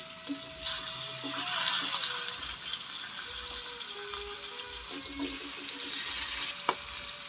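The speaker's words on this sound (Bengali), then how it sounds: "সরিষার তেল গরম হয়ে গেছে দেখুন এই অবস্থায় আমি ইলিশ মাছগুলো ছেড়ে দিচ্ছি" Hilsa fish pieces fry in hot mustard oil with a continuous moderate crackling sizzle that swells slightly midway, with faint utensil knocks near the end and no talking.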